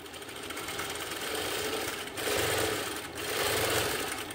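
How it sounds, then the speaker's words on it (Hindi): A sewing machine runs steadily, stitching straight, thick seams through fabric for a lined sharara, its fast mechanical whir close and continuous, easing slightly between bursts. "तो गाइज आपको ना इस प्रकार से बिल्कुल सीधी सिलाई लगानी है"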